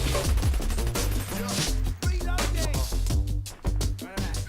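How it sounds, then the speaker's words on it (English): Machine pistol gunfire in a video game: rapid bursts of sharp shots in quick succession, loud and close, with brief gaps between volleys and no talking. "This machine pistol, as mentioned, is the faster of the 2 machine pistols"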